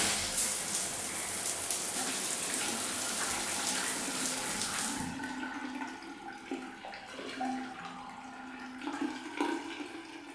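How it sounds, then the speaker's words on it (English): Water runs steadily from a shower at close range, a dense continuous hiss for about five seconds, then cuts off and leaves quieter room sounds with faint knocks and dripping. "Let me have a shower"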